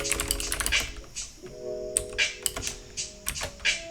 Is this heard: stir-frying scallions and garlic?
no